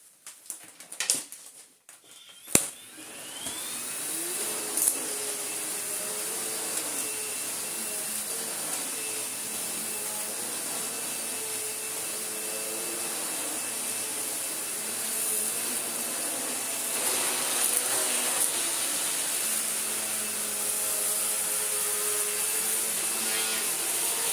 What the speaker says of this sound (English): Let's vacuum this pink rug.